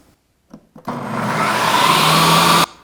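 An electric mixer whirs steadily for about two seconds, blending a cottage cheese base for mint chocolate chip ice cream, loud and close after a couple of short knocks, then cutting off abruptly.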